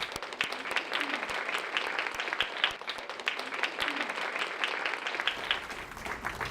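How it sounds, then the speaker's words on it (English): Applause from the audience at the 2019 Cox Institute Gala, a dense, steady round of clapping with some sharper individual claps near the mic, fading slightly at the end. "Let's give the 11 leaders another round of applause."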